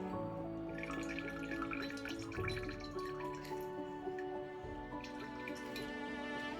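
Cleavers herbal tincture strained into a jar, liquid dripping and trickling in quick irregular drops and thin streams, close and fairly quiet, alongside a sustained tonal background.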